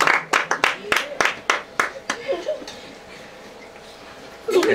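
Guests at a child's birthday celebration clap in a quick burst of about a dozen sharp hand claps that slow and fade, followed by murmured voices and brief laughter.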